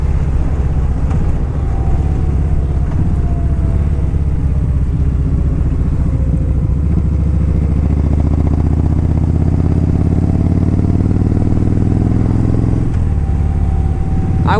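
A 2013 Kawasaki Vaquero motorcycle engine drones loud and close throughout a ride, a continuous rumbling hum with rising and falling pitch as the revs shift, no voices over it.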